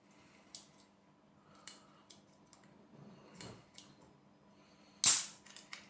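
A T.A.S. mangosteen juice drink is handled and opened, with a few small clicks and taps followed by a sharp, loud crack or pop near the end.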